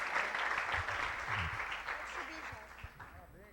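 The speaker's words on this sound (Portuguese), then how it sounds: "Uma salva de palmas ao Senhor" A church congregation clapping in praise during a service, a fairly faint, diffuse applause that fades over a few seconds while voices and a sung or spoken tone rise beneath it.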